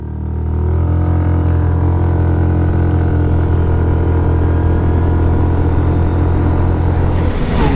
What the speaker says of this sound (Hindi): I really like the exhaust sound.